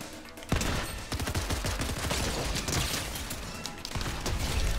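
SMG fire in the video game Fortnite, close rapid bursts of shots in a rattling stream that starts sharply after a brief lull and runs almost without break, loud.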